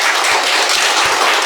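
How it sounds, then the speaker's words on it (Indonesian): A church congregation at a thanksgiving Mass gives loud, dense applause for the 42nd graduating class, a close and continuous wash of many hands clapping. "Dan juga kita sekalian memberikan tepuk tangan untuk adik-adik kita angkatan 42"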